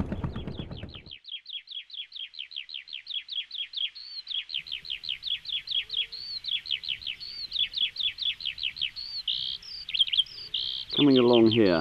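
A skylark sings a long, continuous run of rapid high trills and chirps by a tidal river, its bright notes steady and fairly close over a faint low rumble of wind and engine, with a brief voice at the start and a louder noise at the end.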